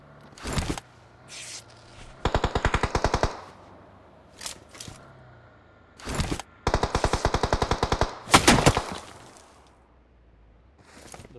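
Video game gunfire in PUBG / BGMI: rapid automatic bursts and single shots in several clusters with short pauses between, loud and close, with no talk over them.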